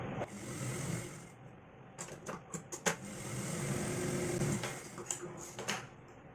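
A sewing machine stitching a princess-cut blouse runs in short bursts of rapid whirring, stopping and starting repeatedly with small clicks and handling noises between runs, fairly close and quiet.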